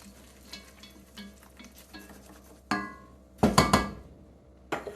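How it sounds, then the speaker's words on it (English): Half a cup of flour cooking in a pot, with faint sizzling and repeated scraping stirs, then several sharp knocks of a utensil against the pot. "I'm going to put in half a cup of flour. And we're going to get that cooking."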